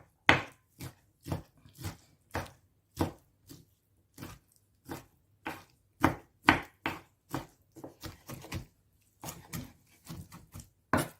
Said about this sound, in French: Après, on les hache, mais vous pouvez aussi utiliser le robot